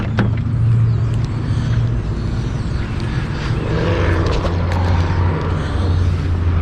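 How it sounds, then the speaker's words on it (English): Stock Nissan 350Z engine starting and idling in gloomy wet weather: a loud, steady low engine rumble with a continuous hum, close by, with no talking. "now we're gonna start the Z and check out some cars and go for a drive"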